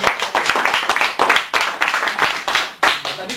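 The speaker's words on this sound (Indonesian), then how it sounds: "sebelumnya tepuk tangan dulu untuk" An audience at a practice seminar claps for a speaker, a close, steady patter of many hands with uneven bursts running throughout.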